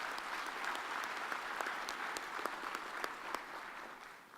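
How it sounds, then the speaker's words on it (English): Audience at a university autumn graduation ceremony applauds steadily, a dense wash of many hands clapping at a moderate distance, holding level for a few seconds before easing off at the end. "another round of applause for Mr."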